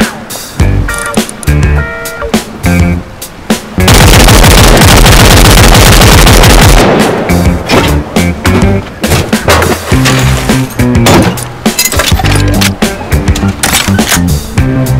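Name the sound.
gunfire and weapon reload in the video game Rust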